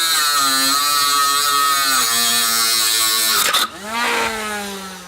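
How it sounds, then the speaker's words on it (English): A homemade cordless angle grinder built around a 775 motor whines at a high, buzzing pitch while cutting steel, steady and close, then briefly dips and spins back up near the end. "Here's a homemade portable angle grinder."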